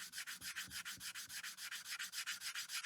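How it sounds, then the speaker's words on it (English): Sandpaper of 60 to 80 grit rubbed back and forth to level a Pro/Street wheel, a quick, steady series of close, even scraping strokes with no talk. "you're sanding it level"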